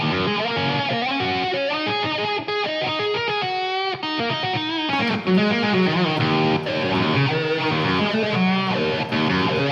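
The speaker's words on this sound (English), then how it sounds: "that was some pretty heavy distortion" Loud, continuous lead melody on a harpejji, a tapped string instrument, run through a heavy distortion pedal, thick and saturated with sustained notes and a brief dip before a fuller second phrase.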